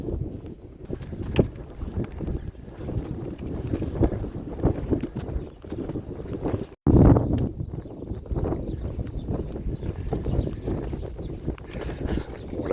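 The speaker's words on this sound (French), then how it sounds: "M'énerve ce vent de face." A strong headwind buffets the microphone in rough, continuous gusts while a traveler moves along a rural road, with one brief dropout midway.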